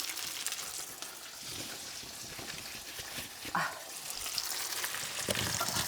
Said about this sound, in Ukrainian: Все, карамелізуємо яблуко.